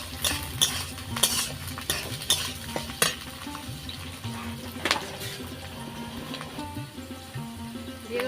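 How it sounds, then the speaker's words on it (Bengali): Capsicum is stirred and fried in a pan for Bengali pulao, with a spoon scraping and clinking against the metal in irregular strokes over a soft sizzle, close and fairly quiet. "এবার আমি ক্যাপসিকামটা দিয়ে দেবো।"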